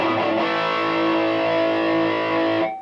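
A sustained, heavily overdriven electric guitar chord through a Boss Katana 100 amp's overdrive effect rings out loud and thick, held steady for nearly three seconds before cutting off.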